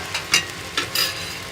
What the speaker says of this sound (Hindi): हमारे प्याज टमाटर पक गए हैं। अब हम इसमें डालेंगे भिंडी।